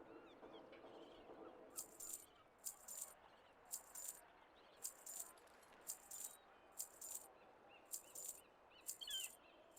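Seagulls as ambient background in the oceanside Borealis area of a video game: faint, short bright cries repeating at a steady rhythm over a quiet backdrop.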